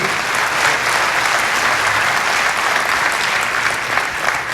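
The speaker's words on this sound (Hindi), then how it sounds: "जोरदार तालियों से अभिनंदन करते हैं" Loud, continuous audience applause at a formal award ceremony in a hall, many hands clapping steadily throughout with no break.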